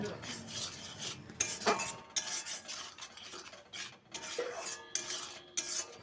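Masala paste with salt, turmeric and sugar is stirred in a pan for a fish-head curry, soft scraping and clinking of a metal spoon in irregular strokes, fairly quiet and close.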